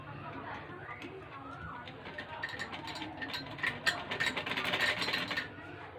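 A sewing machine stitches the buckram-lined edge of a fabric neckline. Its rapid mechanical rattle builds in the second half and gets louder toward the end, after a quieter start with faint background sounds.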